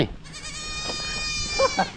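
A goat in a Laotian village gives a single loud, wavering bleat up close, with faint background noise.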